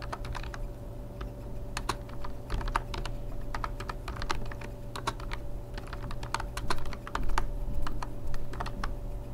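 Rapid typing on a computer keyboard while entering text in traditional Mongolian script, with close, irregular key clicks in quick bursts over a steady low hum, and no voices.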